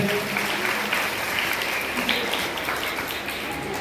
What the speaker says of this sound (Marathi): सरांसाठी एकदा जोरदार टाळ्या झाल्या पाहिजे।